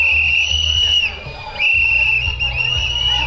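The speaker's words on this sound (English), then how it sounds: "Get some more whistles." Shrill whistles blast from a crowd of protesters at a Pride event, long sustained piercing tones repeated over loud crowd noise and shouting, close and dense.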